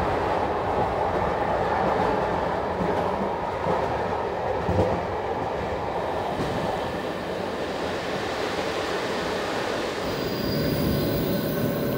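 A diesel train on the cross-border line between Oradea and Püspökladány rolls steadily along the rails, with a close, continuous rumble and a faint metallic squeal from the wheels throughout.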